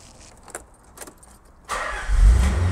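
A classic car engine starts on the first try, with a few faint clicks and jingles before the starter catches and the motor settles into a low, close idle, fairly soft overall.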